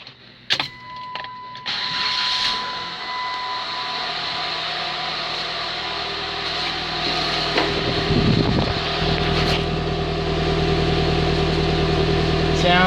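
A 2003 PT Cruiser engine cranks briefly with a few sharp clicks, then catches and settles into a steady running hum, close and fairly loud, with a faint tone and a voice in the background.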